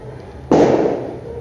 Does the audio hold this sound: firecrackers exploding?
yes